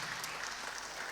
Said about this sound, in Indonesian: Tepuk tangan lebih meriah lagi dong buat Tuhan.